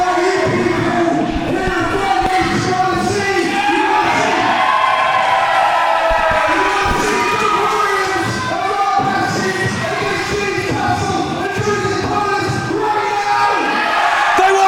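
A wrestling crowd at a live event in Eastbourne roars and cheers continuously, with shouts and whoops rising over a dense, loud wall of voices.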